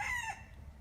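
A brief tail end of a rooster's crow, a high drawn-out call that fades quickly.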